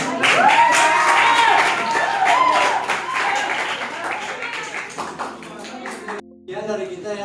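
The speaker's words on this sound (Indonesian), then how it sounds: "Oh iya, tepuk tangan." Audience clapping at the close of a student presentation, a dense patter of hands that tapers off while voices and a brief tone sound over it.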